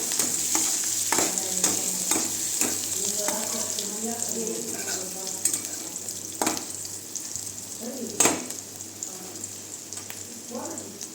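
Cumin and mustard seeds frying in oil while being stirred for a Maggi dish, a close sizzle broken by repeated scraping and spoon knocks against the pan, with faint speech-like sounds in the background.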